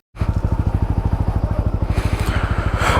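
A motorcycle engine just after a cold start idles close by with a steady, rapid low thumping pulse that stays loud and even throughout, with no talking.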